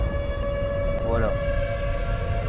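A nuclear civil-defense siren from the Hbomb Pack in Garry's Mod drones as a steady, continuous wail under a low rumble, with a brief rising sweep partway through.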